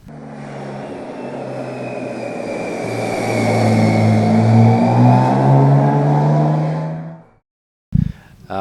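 A 2012 BMW K1600 inline-six motorcycle engine revs up, its smooth whine climbing and swelling for several seconds before cutting off, then a short thump.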